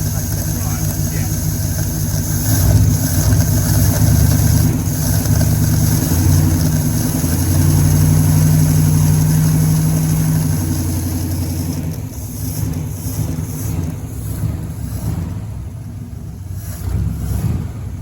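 The engine of a restored 1957 Ford F250 truck idles close by with a steady, loud, low-pitched rumble that rises and falls slightly, while people talk over it.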